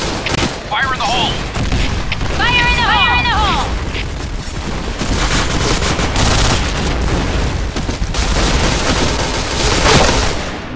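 Grenade explosions and fusillades of gunfire in a multiplayer video game, dense and loud throughout, with a voice calling out over the clatter of shots and booms.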